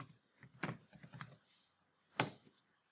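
Bursts of keystrokes on a computer keyboard while entering a spreadsheet formula, a quick cluster of taps followed by a pause and then a sharper pair of strikes, close and clear with no talk.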